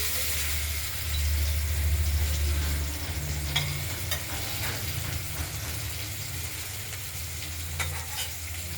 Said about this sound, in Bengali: এবার কড়াইতে তেল গরম করে নিয়ে আমরা প্রতিটা মাছ ভেজে নেব।